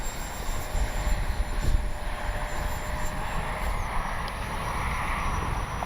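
A Freewing Banshee RC sport jet flies past with a steady high whine and broad rushing roar, fairly loud and continuous with slight swells, no voices over it.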